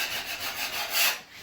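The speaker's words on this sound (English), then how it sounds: "I've sanded the wall off" Wall being sanded smooth for painting in a storage room converted to an editing room, a soft close rasping rub in a few back-and-forth strokes.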